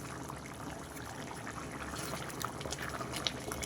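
Mutton gravy curry boils in a pot with a faint, continuous bubbling and soft liquid crackle, a few small pops near the end.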